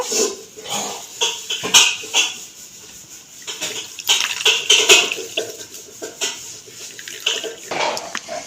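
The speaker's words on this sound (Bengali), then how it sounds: "ভালো করে এরকম চিপে চিপে জলটা একদম যাতে জল না থাকে" Wet shredded potatoes squeezed by hand in a kitchen to press out the water: repeated soft squelches, drips and splashes in uneven bursts, close and fairly loud, with no speech.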